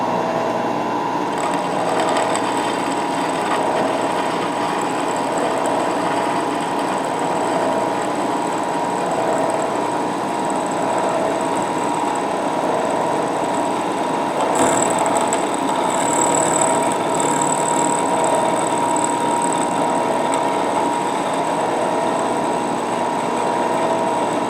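A machine drills and slots metal ceiling camera mount plates with a continuous whirring, buzzing hum, a brief harsher burst of cutting partway through, steady and close with no talking.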